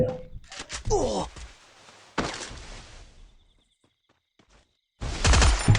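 Gunfire from the Free Fire mobile battle royale game in bursts with gaps between them, loud close shots and rapid volleys near the start and again at the end, with a voice talking over the action.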